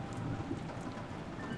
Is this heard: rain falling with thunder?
yes